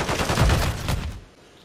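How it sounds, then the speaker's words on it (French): Rapid automatic gunfire in the Call of Duty MW3 video game, a dense, loud burst of shots that cuts off abruptly after about a second. "J'essuie des tirs."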